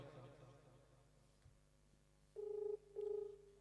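A mobile phone call gives ringback tones, two short electronic beeps after a brief quiet murmur, faint and close.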